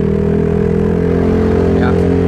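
A Honda Stylo 160 scooter fitted with an aftermarket exhaust and a tuned CVT holds a steady, close, humming engine drone with a deep throaty tone and no change in pitch.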